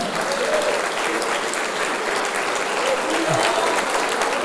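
A congregation applauds during a Portuguese-language prayer and intercession church service, with sustained, loud clapping that fills the whole stretch while a voice is faintly heard beneath it.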